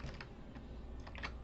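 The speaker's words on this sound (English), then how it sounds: "I'm typing the right password" Rapid clicking of computer keyboard keys as a password is typed, with quick, uneven keystrokes coming in small bursts over steady low room hum.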